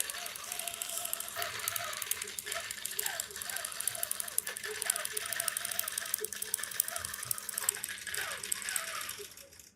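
A sewing machine stitches along the edge of a fabric duffle bag, giving a fast, steady mechanical clatter of needle strokes that runs continuously and fairly loudly, ending abruptly.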